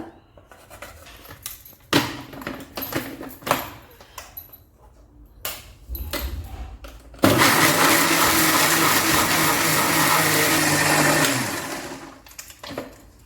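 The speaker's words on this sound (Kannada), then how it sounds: "ಸೊ ಇದನ್ನು ಒಂದು ಮಿಕ್ಸಿ ಜಾರಿಗೆ ಹಾಕ್ಕೊಳ್ಳೋಣ" A mixer grinder roars loudly for several seconds blending spinach and other greens without water, steady and harsh, after a stretch of clattering and knocking; it cuts off and light handling noises follow.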